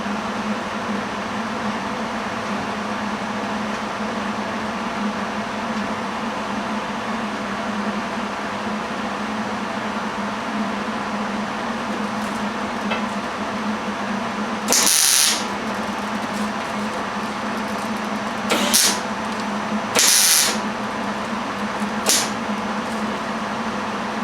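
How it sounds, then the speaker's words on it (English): Tack welding small steel squares onto a custom C10 rear bumper: a steady background hum and hiss, then a few short sharp crackling bursts near the end, each lasting about a second. "Here's my other four little squares that I need to tack in here on the other side."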